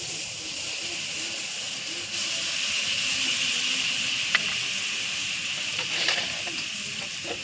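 Poppy seed paste and spices being stirred in a pan over low heat, giving a steady soft sizzle and hiss with occasional faint scraping of the spoon.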